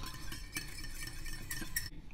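A salad dressed with black pepper and lemon is stirred in a bowl, giving steady scraping and soft clinking of a utensil against the dish, with a few sharper taps, close and moderately loud.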